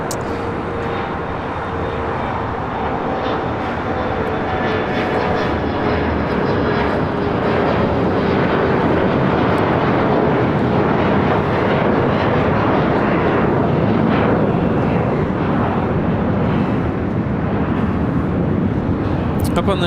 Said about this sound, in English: we have Qantas Flight 95 about to touch down from Melbourne